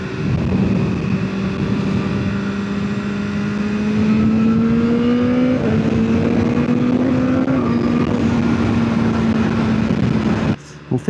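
A 2024 BMW S1000R motorcycle engine drones steadily while riding, its pitch climbing gradually under load with a couple of brief gear-change dips, loud and continuous before cutting off near the end.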